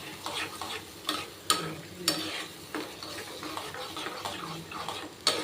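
Garlic chutney sizzles briefly in a small pan, with a steady frying hiss broken by sharp scraping and stirring clicks at irregular intervals, close and moderately loud.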